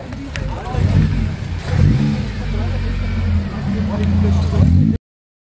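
A car engine revs steadily and loudly for about five seconds with a low, sustained rumble, up close and alone.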